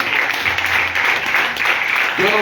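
A church congregation breaks into sustained applause, a dense wash of clapping that continues steadily and moderately loud throughout.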